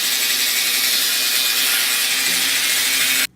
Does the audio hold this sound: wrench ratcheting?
yes